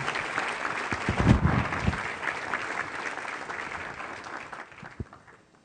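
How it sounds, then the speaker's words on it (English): Sustained audience applause for panelists at an immigration plenary session, a dense wash of many hands clapping that peaks early, then thins and fades with a single late clap. "Please give them a round of applause."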